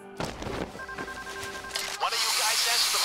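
A telephone rings in a Payday bank heist game, a short electronic tone repeating under game noise and a voice, followed by a burst of hissing noise.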